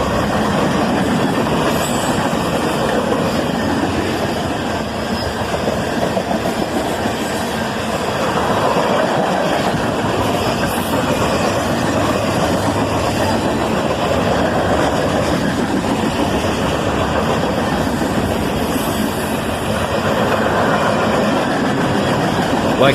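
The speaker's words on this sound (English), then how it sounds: "A mixed manifest train headed northbound, led by a pair of ES44 ACHs." A northbound CSX mixed manifest freight train led by two ES44AC locomotives rolls past at close range, a loud, steady roar of wagons and wheels with occasional squeal and clatter.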